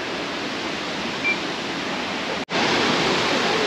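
Steady, broadband rushing water from a waterfall heard along a jungle trail, a continuous dense roar that briefly cuts out before resuming just as full.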